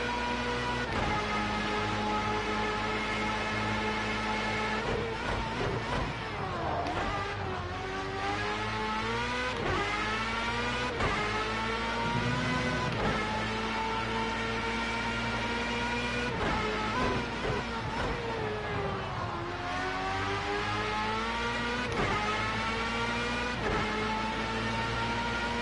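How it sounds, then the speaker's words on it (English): Formula A open-wheel race car in Project Cars 2 at full throttle, a loud continuous high-pitched engine scream climbing through the gears with sharp rev drops at each shift, steady and close throughout. "I think I can go full throttle here."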